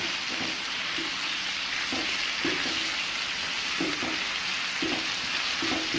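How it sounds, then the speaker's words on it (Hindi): Chicken pieces fry with onions in a pan over a medium flame, giving a steady dense sizzle with occasional stirring scrapes and soft knocks throughout, close and fairly loud with no voices. "मीडियम फ्लेम पे मैं इसको फ्राई कर रही हूँ"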